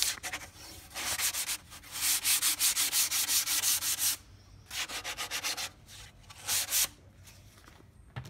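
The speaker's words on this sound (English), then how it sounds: "you can get that off with a gradation of sandpaper, moving from heavy grit to lower grit" Sandpaper rubbing back and forth along the edges of a wooden strip frame in rhythmic rasping strokes, grouped in bursts with short pauses, close up with no talking.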